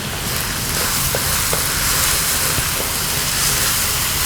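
Shallots soften in a salted pan over lowered heat, giving a steady, close, even sizzle with faint stirring and no voices.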